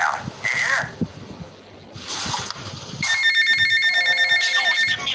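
Inside a video game, a payphone rings in Little Havana with a steady electronic trill that builds and holds over the second half. Earlier there is game ambience with wind-like noise and faint scattered sounds.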